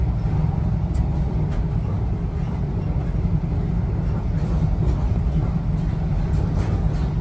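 Steady rumble and rattle of a ride aboard a GWR HST Castle Set bound for Penzance, continuous low-frequency train noise with faint clicks and creaks throughout, no talking.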